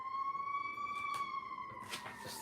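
An emergency siren wails in long rising and falling tones at a moderate distance, steady and clear, with some brief background noise near the end and no talking.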